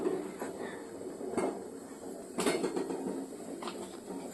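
A metal pressure cooker is set on a home stove for making pulao. A few light metallic clanks and knocks sound close by over a low background hum.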